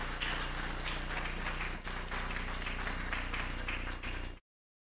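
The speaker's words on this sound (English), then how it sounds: "Ladies and gentlemen, a round of applause for His Excellency Atiku Abubakar" An audience at a formal anniversary ceremony applauds as Atiku Abubakar is introduced. Dense, even clapping fills the hall over a faint musical tone and stops abruptly at the end.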